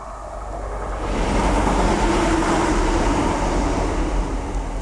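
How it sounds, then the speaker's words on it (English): A train rumbling across a bridge above a big creek, a steady, loud, broadband roar that swells after the first second and holds throughout, with no talk. "The downside is the train's going over the top."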